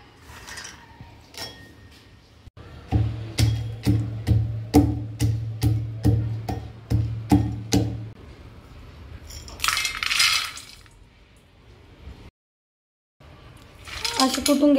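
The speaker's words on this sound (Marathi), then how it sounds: "असे कुटून घ्यायचे आहे आपल्याला." Almonds are pounded to crush them, about a dozen sharp, evenly spaced thuds in a quick run, followed by a few softer rattles and scrapes, close and clear.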